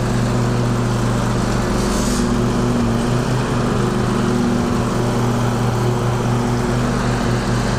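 A lawn mower engine drones steadily and loudly while mowing a lawn, running continuously near the microphone with no talk over it.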